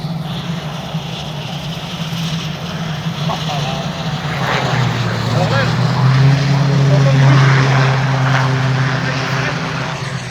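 A propeller aircraft's engine roars steadily and swells louder midway as it brakes with reversed propeller pitch, with a strong low drone, while people talk over it.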